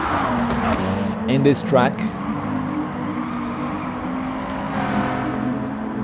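An Audi race car roars through the Tokyo Expressway South course in a racing video game, its engine droning steadily with a rising and falling whine. The engine noise stays loud and continuous under a commentator's constant talk.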